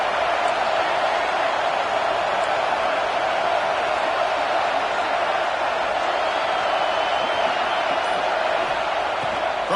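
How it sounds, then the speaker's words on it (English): A packed football stadium crowd roars behind the defense on a 3rd down, a loud, steady wall of noise that holds without letup for about ten seconds. "Decibels rising as the crowd gets behind this defense on 3rd down."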